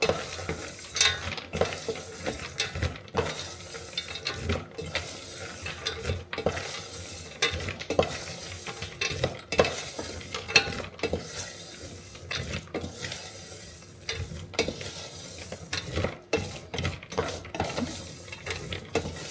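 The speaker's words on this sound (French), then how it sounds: "Je vais rajouter les amandes dedans. On va bien tout enrober." Almonds stirred and tossed in a pan to coat them for roasting, a steady scraping and rattling stir with light sizzling throughout, close and continuous, no voices.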